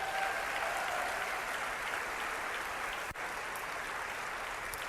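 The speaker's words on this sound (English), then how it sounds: "Now, if you got it from Laura, give her a big applause because she invited you to the party" An audience claps and cheers in a dense, continuous wash of applause that holds at an even level throughout, with one brief dip partway through.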